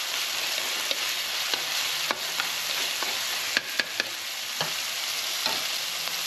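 Red onion softening in oil in a frying pan, a dense constant sizzle close up with scattered light taps and clicks of a utensil stirring, no talking.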